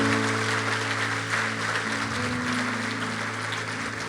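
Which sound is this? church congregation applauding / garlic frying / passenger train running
church congregation applauding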